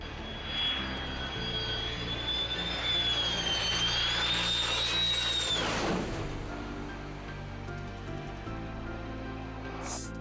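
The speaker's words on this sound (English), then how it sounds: "the pilot gave the spotters a thrill by flying close to them on its way to landing" An F-16 fighter jet flying low and close past onlookers on its landing approach, a loud sustained jet roar with a rising and falling whine that swells and then sweeps down as it passes.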